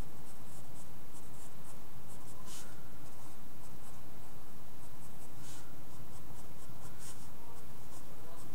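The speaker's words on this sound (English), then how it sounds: "Draw a little square, a little circle right there, not square, and then go ahead and draw arms." Pencil drawing a manga figure's arms on paper, a steady soft scratching close up with brief brighter strokes, alone with no talk.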